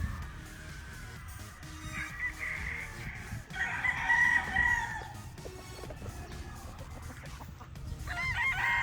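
A Thompson White gamecock crows at a stag breed show booth, giving two or three loud, drawn-out calls close by over a busy background of other birds and crowd noise.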